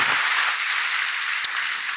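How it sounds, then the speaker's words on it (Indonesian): Congregation at a church service applauding, a dense continuous patter of many hands clapping evenly, with one sharper hit near the end. "Berikan tepuk tangan kita untuk Tuhan kita."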